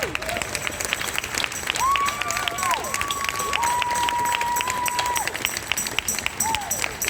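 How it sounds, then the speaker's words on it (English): Applause and cheering from a crowd at a Palestine protest in Auckland City, a steady broad wash of clapping under an amplified voice talking and some tonal sound running throughout. "give him a round of applause"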